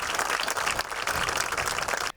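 Mourners at a girl's funeral break into applause, a dense burst of many hands clapping together, close and fairly loud, running steadily for about two seconds before cutting off abruptly.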